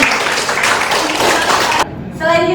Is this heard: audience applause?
yes